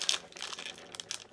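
A plastic blind bag of Star Wars emoji collectible toys is torn open, giving short crinkling and ripping rustles close by with no talk.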